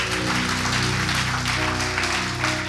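A church congregation claps their hands in praise to Jesus, with dense, continuous applause under sustained musical tones from instruments playing throughout.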